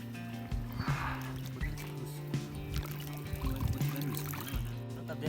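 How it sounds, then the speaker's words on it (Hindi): Clear stream water runs and splashes steadily near a camp by the Siachen Glacier while meat is washed in it, a continuous close gurgling flow with occasional louder splashes. "सो ये देख सकते हैं साफ़ सुथरा पानी यहाँ पर। तो यहाँ पर हम गोश्त को धोते हैं।"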